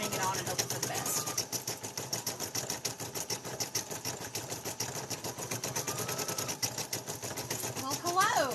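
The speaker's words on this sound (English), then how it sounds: "right now we're stitching out some Squishmallow turkey felties" An embroidery machine stitching out Squishmallow turkey felties, a fast, even mechanical needle rattle running steadily throughout, with a person talking over it.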